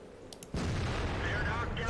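A tank cannon from a T110E3 tank in a World of Tanks-style video game fires with a sudden heavy boom after a short quiet stretch, followed by a rumbling, sustained roar while a voice talks over it.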